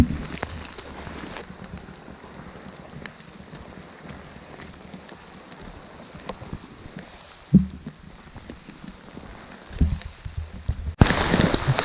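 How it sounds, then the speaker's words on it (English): Steady rain falls outdoors on a farm, a soft continuous hiss with a few sharper drops and light wind bumps, fairly quiet, with no talking. "Well, of course it's raining out."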